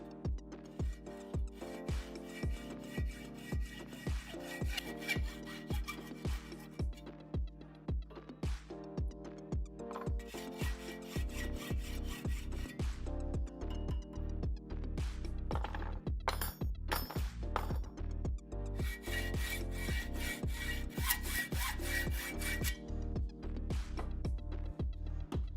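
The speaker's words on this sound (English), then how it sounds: "I used a hacksaw to cut off the sprues and excess metal." A hacksaw cutting off sprues and excess metal from a cast bolt and nuts, steady rhythmic back-and-forth rasping strokes repeating close up throughout.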